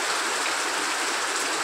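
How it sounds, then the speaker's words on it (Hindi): Knee-deep floodwater rushing fast across a road, a steady, loud, hissing roar of flowing water with no pauses. "जिसमें ठेवना भर पानी चल रहा है और बहुत तेज, बहुत तेज"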